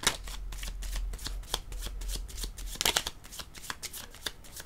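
Cards shuffled for a card reading, a quick run of crisp riffling snaps repeating steadily and close, with no talk over them.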